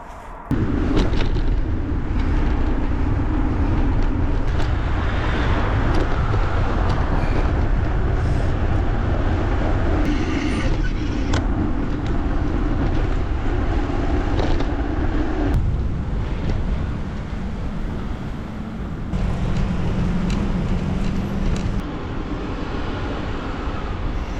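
Steady loud rumbling and rushing noise of a moving train heading into London, with rattles and wind buffeting throughout, no talking.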